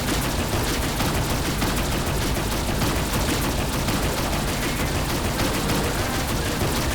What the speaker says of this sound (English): So he said I need to fire on a container?